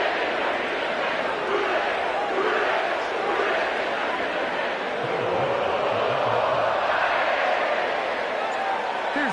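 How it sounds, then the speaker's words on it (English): Sellout stadium crowd at Paycor Stadium in Cincinnati in a football video game, a steady broad roar throughout with a commentator talking over it. "sellout crowd has arrived at Paycor Stadium in Cincinnati"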